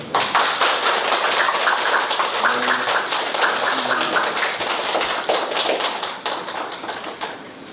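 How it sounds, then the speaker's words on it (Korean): A crowd at a political debate forum claps steadily and densely, a loud, continuous wash of hand claps that holds throughout and thins slightly at the very end. "박수를 한번 쳐요"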